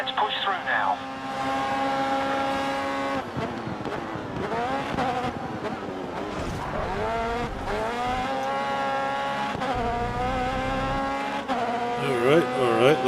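Race cars in the racing game Grid Autosport, engines whining and rising through the gears with tire squeals and shifting pitch, steady and close, while a player talks over the action.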